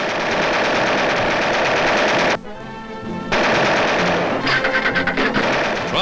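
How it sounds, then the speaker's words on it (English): Aerial machine guns fire from a model bomber turret during 1943 wartime gunnery training, with loud rapid bursts of automatic fire, a short pause and then more bursts that end in a few separate shots. "sharpshooters learn to use aerial machine guns, training their fire upon small discs hurled by a machine into the air"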